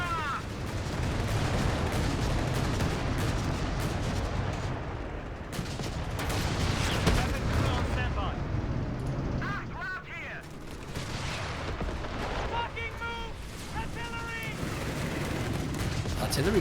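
In a strategy video game match, an artillery strike lands among gunfire: a dense barrage of booms and rapid shots runs continuously, with commentary voices talking over it.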